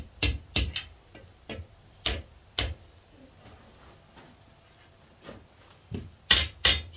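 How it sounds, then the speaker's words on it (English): A hammer strikes a firepit poker held in the hardy hole of an anvil, delivering a series of sharp, loud metallic taps in irregular bursts with quiet gaps between them. "I usually put it in the hardy hole of the anvil to give it a few taps"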